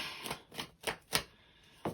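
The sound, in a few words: tarot cards falling out of the deck while shuffling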